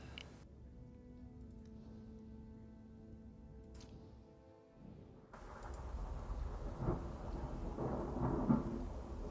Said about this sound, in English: Somehow the thunderstorm outside